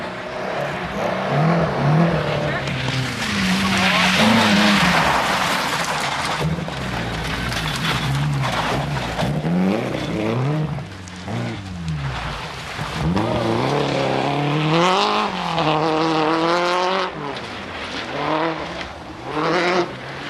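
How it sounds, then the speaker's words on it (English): Nissan-powered Peugeot rally car driven hard through snow, mud and ice on a Scottish rally stage, its engine revving and rising and falling in pitch continuously, loud and close, with surging acceleration. "Donald Milne of Bankery put in a good early form in his Nissan-powered Peugeot in the treacherous conditions of snow, mud and ice"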